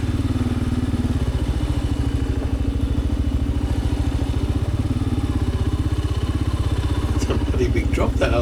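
A Kawasaki KLR 650 motorcycle chugs over rocky ground near a waterhole, its single-cylinder engine throbbing in a fast steady pulse, close and prominent, with faint clatters and knocks from the terrain toward the end.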